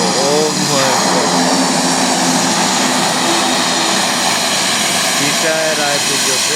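A propeller airplane arriving at Lukla airport in Nepal gives a loud, close, continuous engine roar with a throbbing drone that stays strong throughout.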